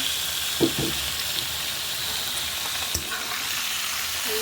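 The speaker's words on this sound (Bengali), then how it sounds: "যেহেতু মুরগির মাংস, সেই জন্য একটু ভেজে নেব" Chicken meat frying in a pan with onions and bay leaf, a steady soft sizzle with a few sharp clatters of stirring near the start and middle, close and moderately quiet with no talk.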